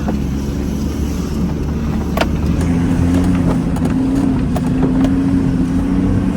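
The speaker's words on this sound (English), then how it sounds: "So this is hectic driving." A vehicle driving over a rough, burnt-out bush track in Botswana gives a constant loud engine drone with wind buffeting, and scattered rattles and knocks from the bumpy ground.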